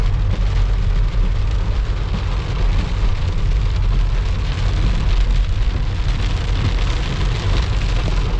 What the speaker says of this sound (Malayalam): മഴ ഭയങ്കരമായിട്ട് കൂടിയിട്ടുണ്ട് കേട്ടോ